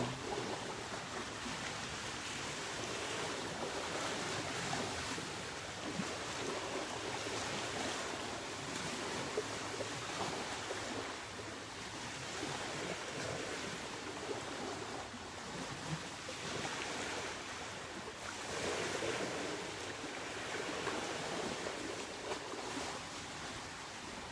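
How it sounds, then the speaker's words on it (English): Continuous wash of water waves, a soft broadband rushing that swells and recedes gently, fairly faint and steady throughout. "Maybe it's the sound of the water."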